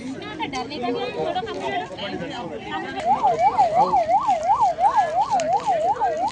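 An ambulance siren wails at a road accident scene in Rangareddy district, where a tipper truck hit a bus. Voices chatter at first, then a loud, steady rising-and-falling wail takes over the second half.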